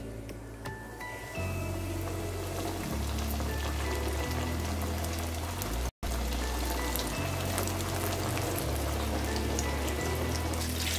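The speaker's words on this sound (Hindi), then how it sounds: "ये देखें ऐसे इसको कोटिंग करके हम इसको फ्राई कर लेंगे।" Crumb-coated chicken pieces deep-fry in hot oil with a dense, steady hiss that runs almost the whole time, dropping out for an instant midway. A low droning tone sits underneath.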